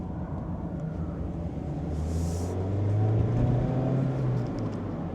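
Mazda Miata engine drops a gear on a road approaching a roundabout, a low steady drone rising into a brief rev blip midway before settling, heard from inside the cabin with no talking.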